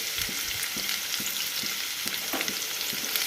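Onions with green chillies and curry leaves frying in a pan for a crispy okra fry, producing a dense, steady sizzle close up with a regular series of soft stirring taps throughout.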